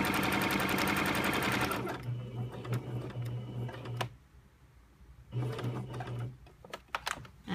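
Sewing machine stitching fabric for a self-tie bow tie, a loud fast mechanical whirr in bursts of a few seconds separated by pauses with small clicks and handling noises, close by.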